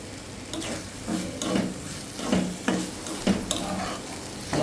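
Raw prawns fried with tamarind leaves in a pan sizzle steadily up close while a spoon stirs and scrapes in regular strokes about every half second.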